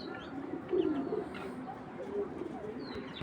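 Soft, low cooing of a male racing pigeon comes in short throaty bursts against a quiet background hum, fairly close by.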